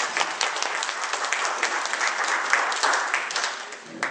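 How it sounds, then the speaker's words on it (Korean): A church congregation applauds in sustained, dense clapping that fills the room at steady volume, tapering slightly near the end. "큰 박수로 하나님께 영광을 드리고"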